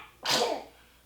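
A single short sneeze bursts out nearby, sharp and breathy, then fades quickly into a quiet room.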